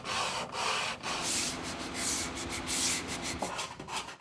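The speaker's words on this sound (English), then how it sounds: "Oftentimes you're just sanding for hours and hours, which isn't very exciting." Wood being sanded by hand in a guitar-making workshop, rhythmic rough rubbing strokes repeating at close range with no talk.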